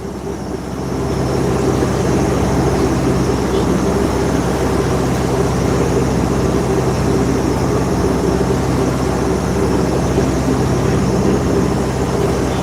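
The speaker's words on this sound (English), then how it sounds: "the motor is not fun to listen to all day long" A boat motor runs steadily throughout on a sailing passage from Dunung Island to Lorengau, Papua New Guinea, giving a loud, constant droning hum with no breaks.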